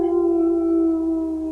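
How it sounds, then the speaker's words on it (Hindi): A dog howls at night outside a village near a forest, one long steady wavering wail held loud and close throughout with no speech. "रात के 7:30 बज रहे थे और बाहर कुत्ते भौंकने की आवाज आ रही थी।"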